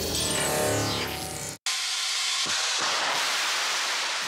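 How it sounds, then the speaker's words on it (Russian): An RD-191 liquid-fuel rocket engine, built for Soyuz and Angara launchers, roars on a test stand during a firing test. The loud, continuous hissing blast is broken once by a brief cut. "Это видео с огневого испытания нового жидкостного двигателя РД-191 для ракет-носителей «Союз» и «Ангара»."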